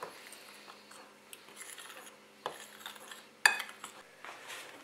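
Cake batter for a Valentine's cake with a heart inside, made of eggs, flour, baking powder and cocoa, is stirred in a bowl: quiet scraping and rubbing, with a few sharper utensil clinks against the bowl and no talk.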